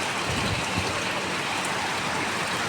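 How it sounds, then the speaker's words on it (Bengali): Steady rain pouring outdoors during a windy storm, a dense continuous hiss of drops falling on surfaces, even and close throughout. "বৃষ্টি খুবই ভালো লাগে আমার কাছে, আমার বৃষ্টি খুব পছন্দ।"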